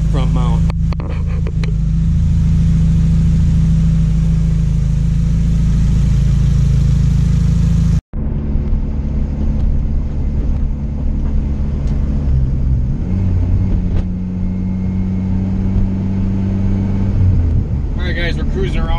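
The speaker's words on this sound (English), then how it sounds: "We're cruising around in the Integra here" A turbocharged Honda Integra GSR with a front-mount intercooler cruises on a street, its engine giving a steady low droning rumble throughout, briefly cut off midway, with people talking over it.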